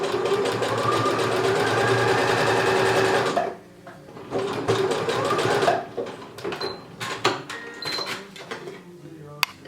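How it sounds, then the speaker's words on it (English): A sewing machine runs in steady rapid bursts while stitching elastic into a swimsuit's V-shaped section, with a continuous whirring stretch, a pause, then shorter stop-start runs and faint clicks close by. "I'm gonna go over again sewing this area"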